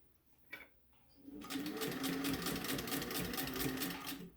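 Sewing machine back-stitching over elastic on a fabric mask: a soft click near the start, then a steady close motor whir with rapid needle rhythm running for about three seconds alone.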